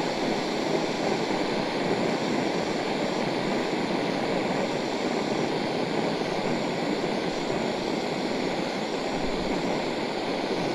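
JetBoil Zip camping stove burns with a steady, loud roaring hiss from its flame while heating water, unbroken and close throughout.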